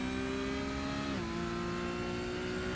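Race car engine in a racing sim game at the Nurburgring combined circuit, a loud steady high-pitched drone that drops briefly in pitch as the car downshifts, then holds a constant tone.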